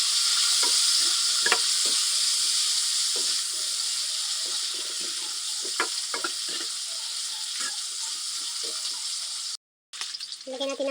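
Smoked meat, sinidoy, sizzles loudly in hot oil in a pan, a bright steady hiss with spoon scrapes and clinks as it is stirred, close up, cutting off briefly near the end before resuming.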